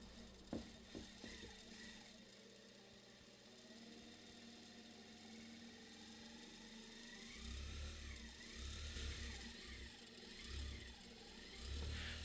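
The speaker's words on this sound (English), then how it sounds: "it acts as a powerful brushless motor" A homemade generator run as a brushless motor through an ESC from a 12-volt battery, giving a steady whine that rises and falls in pitch as it speeds up and slows, fairly faint, with low thumps later.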